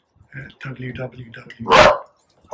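A dog barks in a loud burst right after a stretch of close talking, during a Brompton folding-bike ride along the Viking Coastal Trail on the Kent coast; speech runs before the bark and resumes just after.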